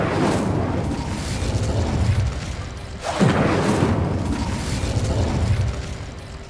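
Confringo and Incendio spells explode in Hogwarts Legacy, two loud booming bursts a few seconds apart, the second a sharp blast with a falling whoosh, over dense rumbling game ambience.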